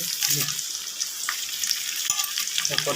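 Green chillies, cashews, curry leaves and whole spices frying in hot oil for jeera rice, a close, steady crackling sizzle with a few spoon stirs and scrapes.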